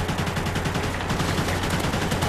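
Rapid gunfire in a first-person shooter video game, a steady loud burst of repeated shots running without pause, with no talk over it.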